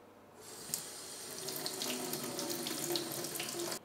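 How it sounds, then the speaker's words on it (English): Tap water runs into a kitchen sink over a hot pan used for baking homemade bagels. The flow starts abruptly, then gushes and splashes steadily at close range before cutting off sharply. "I need to go and put this under the water now."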